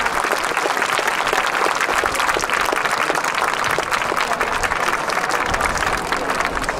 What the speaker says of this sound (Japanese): 盛大な拍手でお迎えください。